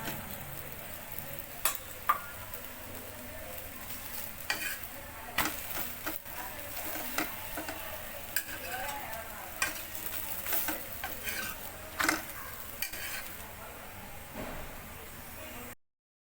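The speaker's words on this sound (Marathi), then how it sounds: "अशा प्रकारे आता ही चपाती आपल्याला शेकून घ्यायची आहे." A chapati roasting on a hot pan gives a steady low sizzle and hiss, broken by soft scraping and pressing sounds at uneven intervals, close up with no talking.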